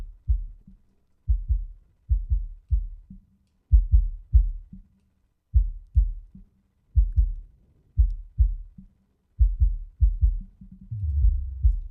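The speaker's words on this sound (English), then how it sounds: "right now I've got mostly just a kick drum coming through on this channel" A low, thumping kick drum hits in a steady pattern of single and doubled beats, deep and boomy with nothing else playing.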